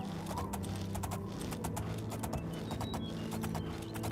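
Horse hooves clip-clop at a steady walking rhythm in The Elder Scrolls IV: Oblivion, evenly spaced and fairly close, over a continuous low ambient game background.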